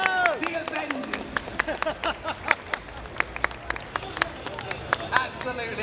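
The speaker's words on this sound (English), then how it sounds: "one more round of applause, ladies and gentlemen" Lively applause from a crowd at a Splatoon 3 tournament at EGX 2022, with sharp scattered claps and a few whoops over a busy, echoing hall ambience.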